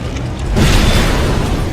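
Cartoon explosion in a Skibidi Toilet animation, a sudden loud boom that swells about half a second in and rolls on as a rumbling, crackling blast.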